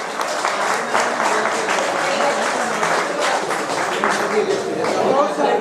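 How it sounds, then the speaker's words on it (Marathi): Applause for Kumbhar sir, a retired teacher, at a 2009 SSC batch school reunion at Karmveer Bhaurao Patil School: a steady wash of many people clapping in a room, moderately loud, with some voices mixed in. "कुंभार सरांनी आम्हाला स्काउट शिकवलं जोरदार टाळ्या झाल्या पाहिजेत कुंभार सरांचे"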